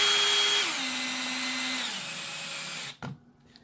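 A power drill runs steadily, driving screws into an ATV tire for studding, its motor pitch dropping in steps as each screw seats, then cutting off abruptly with a brief clunk near the end.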